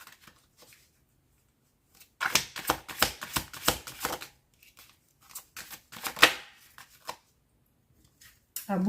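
Tarot cards being shuffled by hand in quick riffling bursts, a dense run in the middle and another later, close and fairly quiet, with no talking.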